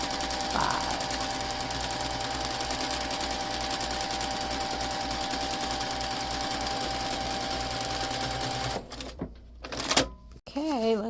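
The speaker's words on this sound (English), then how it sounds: "we're stitching on our last line." Home sewing machine stitching the final line of a foundation paper pieced quilt block, running steadily and close for about nine seconds before stopping, followed by a few light handling noises.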